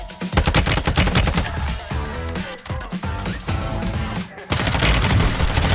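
Rapid gunfire from weapons in Warzone, loud close bursts of automatic fire with brief pauses and a heavy resumed volley near the end, layered over game music.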